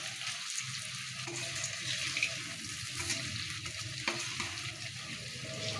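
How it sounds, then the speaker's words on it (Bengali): Cabbage pakoras fry in hot oil, giving a steady close crackle and sizzle that holds at an even level for the whole stretch, with no voices. "ঠিক এইভাবে উপর নিচ করে ভেজে নিলেই কিন্তু রেডি হয়ে যাবে বাঁধাকপির পকোড়া"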